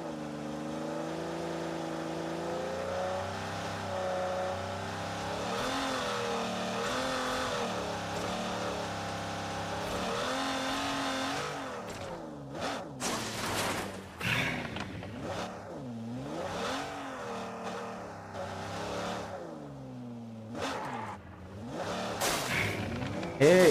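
An Aston Martin car engine in the mobile game BGMI revs up and down in smooth, swelling sweeps. It turns choppier midway, with sharp bursts and drops, and the sound stays close and prominent throughout.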